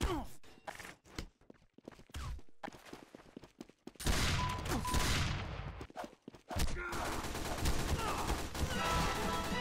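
Bursts of rapid SMG fire in Team Fortress 2 rattle out in short volleys, then longer sustained streams of gunfire, close and loud among other game sounds and brief vocal grunts.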